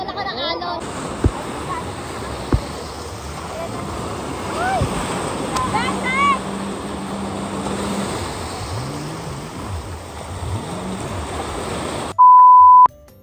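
Surf washes steadily at a white sand beach in Batangas with wind noise, while voices chatter and call out over it; a brief beep near the end.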